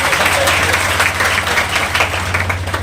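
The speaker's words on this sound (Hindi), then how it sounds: "मैं चाहूंगा एक बार जोरदार तालियों से सबका स्वागत है।" Loud, dense applause from an audience at a poetry and commemoration gathering in Udaipur, sustained throughout over a steady low hum.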